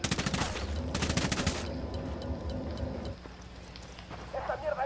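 Rapid automatic gunfire crackles in a military shooter video game, a dense burst of repeated shots in the opening seconds that gives way to quieter ambient noise and scattered distant pops.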